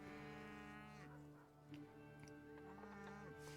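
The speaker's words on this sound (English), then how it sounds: "this soundtrack has cows in it" Cows moo repeatedly in a farmyard ambience track, drawn-out lowing calls that overlap and repeat at a steady, fairly loud level.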